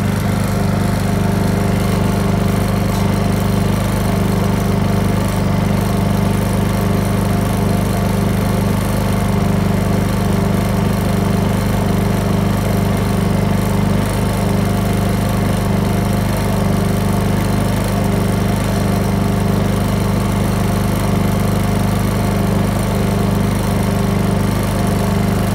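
A Honda EU2000i inverter generator runs in eco mode with a steady, even engine drone and hum throughout, constant in level, close by, with no talking.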